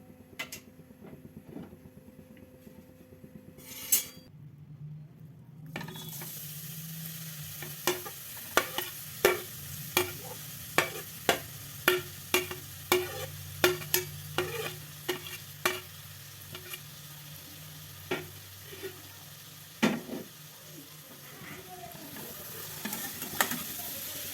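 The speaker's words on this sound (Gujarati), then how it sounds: "ગાજરનું છીણ ઉમેર્યા પછી 3 થી 4 મિનિટ આપણે આ રીતે હલાવશું" Grated carrot fries in hot ghee in a heavy-bottomed pot with a steady soft sizzle, while a spoon scrapes and taps the pot in a regular rhythm of sharp knocks, close and without talk.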